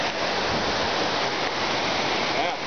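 The twin waterfall on Mount Sumatera near Lake Toba, Sumatra, roars steadily and loudly up close, a constant dense rush of falling water with no break.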